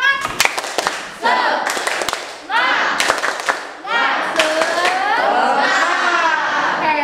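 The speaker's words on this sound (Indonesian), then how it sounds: "Tepuk semangat." Schoolchildren in a classroom lesson on the solar system perform a rhythmic spirit clap, sharp unison claps in short patterns between loud chanted bursts of young voices, ending in sustained shouting.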